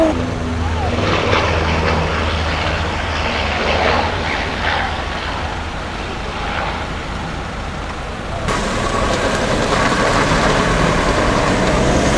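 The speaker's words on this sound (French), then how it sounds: "nous entendons des vols d'avions" Steady low drone of aircraft engines passing overhead near a fire, loud and continuous, with a brief shift in tone partway through.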